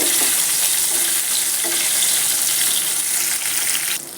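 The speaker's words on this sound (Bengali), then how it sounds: "একটু হালকা লালচে করে এভাবে ভেজে নেব" Cubes of paneer fry in hot oil in a kadai, a steady close sizzle and crackle filling the space with no voices.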